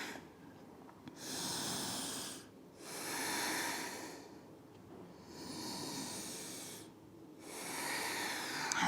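Slow, steady breathing during a yoga stretch with the hips pressed back toward the heels, four long airy breaths in and out at close range with brief quiet gaps between them, no talking.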